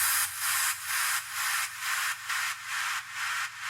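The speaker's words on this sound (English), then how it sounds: "I've added some width automation to the white noise effect so that it plays off of what the synths are" White noise in an electronic music track swells and fades in a regular pulsing rhythm, about eight even bright hissing bursts with short gaps between, its stereo width changing as it repeats.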